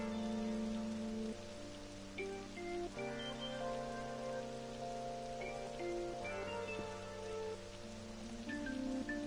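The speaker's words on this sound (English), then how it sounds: "Because it was a hot day, but then it turns into a rainy day." Steady rain falling on surfaces in the video game Persona 5 Royal, a soft continuous patter layered under quiet tonal game music, with no one speaking.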